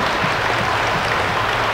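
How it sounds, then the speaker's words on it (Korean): A church congregation at a Presbyterian festival worship service claps in a dense, steady burst of applause to welcome a guest. "큰 박수로 환영하겠습니다."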